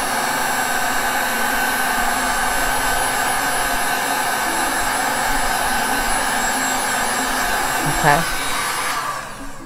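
A heating tool blows a steady, loud stream of hot air over a resin Christmas ornament, running close and continuously, with one brief spoken word near the end.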